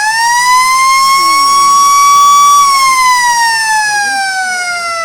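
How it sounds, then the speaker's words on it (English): A loud, sustained Australian football three-quarter time siren blares with a rising then slowly falling pitch, holding long and steady over faint crowd noise. "There you can hear it. There's the three-quarter time siren, and Powell have a shot."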